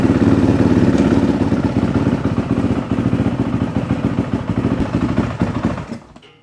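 Loud, close motorcycle engine held at wide open throttle, a steady rough clattering roar that runs continuously before cutting off abruptly near the end, with no voices over it.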